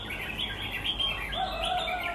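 A red-whiskered bulbul sings in a steady stream of bright, warbling chirps and trills, close and clear over a soft background hiss, with no voices.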